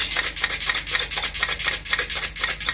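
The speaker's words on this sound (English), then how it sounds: "Mix that all together well" Dijon mustard, salt and pepper dressing for a low carb egg and bacon salad being stirred briskly, a steady run of close scraping and clinking strokes against the bowl, about three per second, with no talk.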